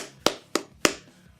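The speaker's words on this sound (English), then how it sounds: "round of applause there, WWE," Three crisp hand claps ring out, close and evenly spaced about a third of a second apart, each one short and sharp against an otherwise quiet background.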